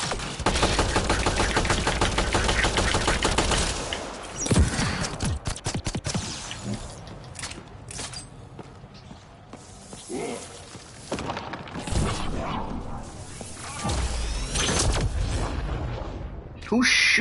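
Automatic gunfire in the shooter game Mass Effect: Andromeda, dense rapid bursts at the start and end with scattered shots and impacts between, loud and close.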